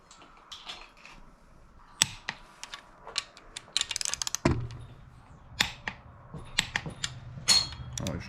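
Torque wrench tightening main bearing cap bolts on a twin-turbo Mitsubishi 3000GT engine during a bottom-end rebuild, giving close metallic ratchet clicks and sharp clacks in irregular bursts with a faint background hum.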